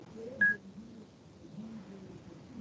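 A mobile phone gives a single short, bright keypad beep while its ringer is switched off, heard close over quiet room noise and soft low murmurs.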